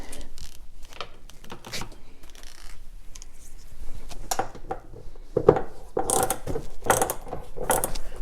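A hand ratchet clicks in quick bursts while removing the last bolt from a golf cart seat, sharp metallic pawl ticks that grow louder and denser near the end, close up with no talking.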